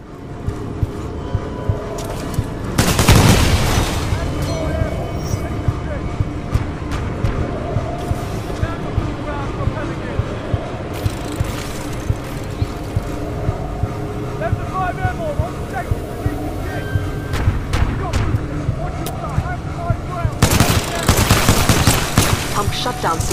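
Gunfire in the first-person shooter Titanfall 2 comes in a few loud, dense bursts against a busy background of steady mechanical rumble and sharp clicks, with faint speech-like game sounds in between.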